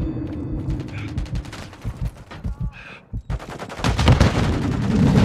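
Heavy automatic gunfire in Modern Warfare 3 rattles in quick bursts, loud and close, with a pause before a dense, continuous volley near the end.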